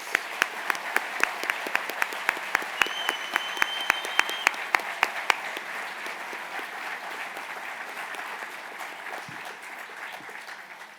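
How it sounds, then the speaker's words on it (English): Sustained applause fills a hall at an engineering hard hat ceremony, with a few loud, close claps punctuating the early seconds before the crowd's clapping settles into a steady, softer roar. "Please join me in a round of applause for all the evening's hard hat recipients"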